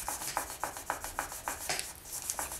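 Polymer clay canes are burnished through a folded sheet of paper, giving soft, rhythmic rubbing strokes that repeat roughly every quarter second, close and quiet, with no voices.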